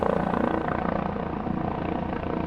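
A rescue helicopter flies over the flood zone after the Mount St. Helens eruption, giving a steady droning rotor whir with a faint rhythmic beat and no voices.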